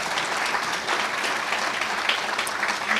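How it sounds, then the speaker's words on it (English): Audience at a new graduate student reception clapping for competition participants, a dense steady round of applause from many hands filling the room, fairly close and continuous. "I just want to applaud everybody who participated in the competition"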